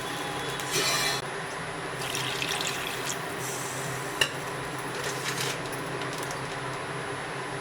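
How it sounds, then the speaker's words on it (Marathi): Steady rush of two glasses of water pouring into a pan for horse gram pithla, continuous and fairly close, with a faint clink partway through. "त्यामध्ये हे बघा 2 ग्लास मी पाणी घालून घेते।"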